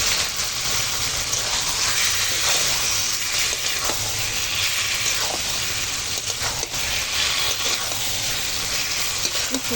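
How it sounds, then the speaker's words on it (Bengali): Drained taro leaves hit a pan of frying spice paste, giving a loud, steady sizzle and hiss with faint stirring scrapes that continues without pause for about ten seconds. "এখন দিয়ে দেব এই জল ঝরানো কচুর শাক"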